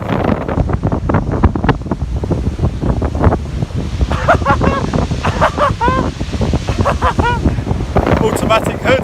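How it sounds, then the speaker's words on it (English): Strong wind and waves pound the Solent shore in bad weather. Gusts batter the microphone hard and constantly while surf crashes and washes in close by. Someone talks over the noise. "the wind is still bringing in the waves"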